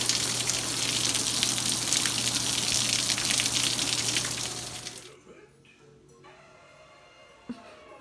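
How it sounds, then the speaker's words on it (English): Heavy rain pours in a steady, dense broadband rush for about five seconds, then cuts away to a quiet room with a faint low hum and a single small knock near the end. "Some crazy rain going on today."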